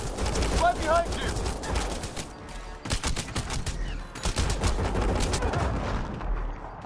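Heavy gunfire in the video game Mass Effect: Andromeda, rapid bursts of shots and booming impacts in a loud firefight, with brief lulls and game voices speaking under the noise.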